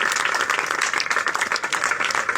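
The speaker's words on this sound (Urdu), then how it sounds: "زوردار تالیاں بجائیں گے اس کے لیے، اور زور سے ہم کلیپنگ کریں گے" Church congregation clapping loudly together in a worship service, a dense, continuous burst of hand claps with no break across the short stretch.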